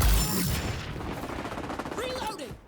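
Marksman rifle fire in the shooter game XDefiant during a zone capture match: a loud close shot opens, followed by dense clattering gunfire and game effects, with a brief rising electronic tone near the end.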